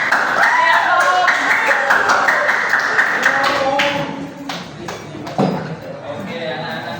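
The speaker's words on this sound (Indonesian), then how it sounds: "Tepuk tangan yang meriah." A school class applauding, a burst of quick overlapping hand claps that fades after a few seconds into scattered taps, with voices talking over it.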